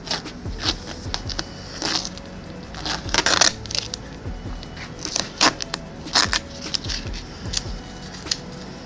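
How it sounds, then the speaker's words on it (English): Masking tape is peeled off the body of a Chrysler Grand Voyager during a restoration. Close, irregular crackles and sharp tearing clicks come in scattered bursts over nearly nine seconds, with no talk. "Take these little pieces off, masking tape off."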